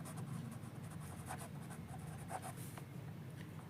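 A number is written by hand with scratchy pen or pencil strokes, some short and some longer, close and soft and heard alone without speech.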